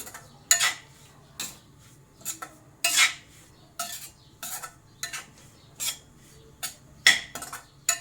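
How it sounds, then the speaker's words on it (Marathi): A spoon stirs coconut powder into roasted semolina in a pan, giving a steady series of sharp metallic scrapes and clinks, about a dozen strokes in a loose rhythm, close and clear with no talking. "आता त्याच्यानंतर मी हे कोकोनट पावडर टाकते असं मिक्स करायचं"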